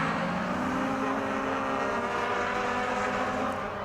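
Honda Civic race cars at Donington GP roar past in a close, loud, continuous engine drone that holds steady before easing slightly at the end.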